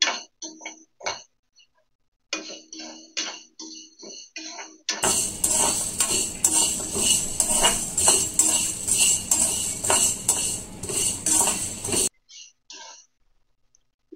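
Whole spices, cinnamon among them, roast with coconut in a hot pan: a few light clinks and scrapes at first, then a loud, dense, steady crackling sizzle for about seven seconds that stops abruptly, followed by a few soft taps.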